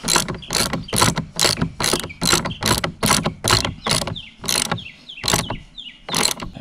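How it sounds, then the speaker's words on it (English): A ratchet wrench tightening a nut on a log hoist at a dovetail log cabin build: a steady run of about a dozen loud, close, rhythmic clicking strokes, slowing slightly toward the end, with no talk. "now all I've got to do is just tighten this nut"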